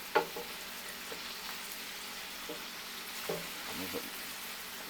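Shallots sauté quietly in a pan, giving a faint, steady sizzle with a few soft knocks from a wooden spoon.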